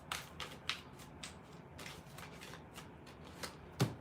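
Tarot cards are shuffled by hand in a series of soft riffling bursts and crisp flicks, with a sharper snap near the end, heard close and quiet with no talk.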